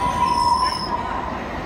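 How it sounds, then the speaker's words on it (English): A train rolls steadily along with a sustained high metallic wheel squeal riding over its loud rumble, heard close from on board after leaving Dallas. "We're getting in the train."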